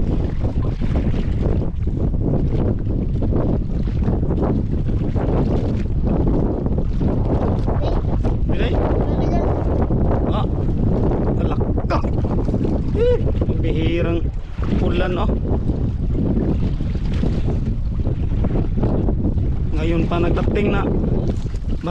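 Strong wind roars steadily across the microphone over a boat at sea, with voices talking intermittently beneath the constant gusting rumble.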